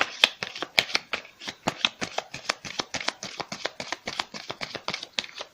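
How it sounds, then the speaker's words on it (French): A deck of Petit Lenormand cards is shuffled by hand in quick, even rhythm, producing a steady run of crisp slapping and flicking riffles, close and clear, with no voices. "Donc je bats, je peux vous montrer comment je bats."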